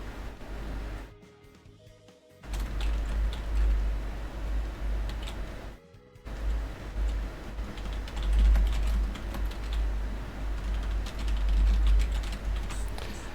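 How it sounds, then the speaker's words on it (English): Fingers type steadily on a computer keyboard, a fast, close stream of clicks with two short pauses, under no speech. "Sorry, you can hear me typing."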